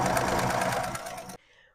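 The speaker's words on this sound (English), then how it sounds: "Got all the sewing done and I've removed the excess fabric" A sewing machine stitches a seam along a garment cuff with a short, close burst of rapid whirring that stops abruptly.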